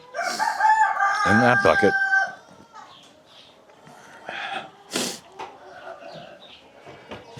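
Chickens on a farm during morning chores, a loud rooster crow up close, then scattered clucks and calls, with a person speaking briefly between them.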